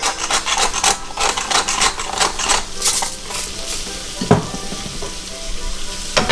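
Vegetables sizzle in a pan over medium heat with salt and pepper, a loud close crackling hiss with scraping and stirring strokes from a utensil throughout.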